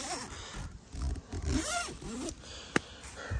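A zipper on a Tidewe 4-6 person hunting ground blind is pulled in several quick, raspy strokes, close and loud, ending with a sharp click.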